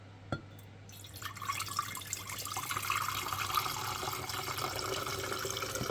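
Kool-Aid drink poured through a metal percolator strainer into a container, a close splashing, trickling stream that starts after a brief clink and keeps running steadily.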